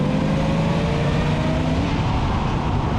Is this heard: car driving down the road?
yes